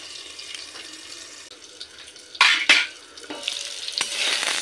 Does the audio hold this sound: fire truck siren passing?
no